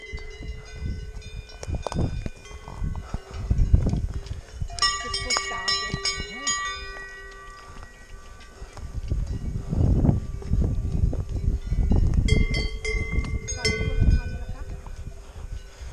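Clanking cowbells from a herd of cows with calves at close range on an Alpine pass, ringing in irregular bursts, with low rumbling and breathy noise between.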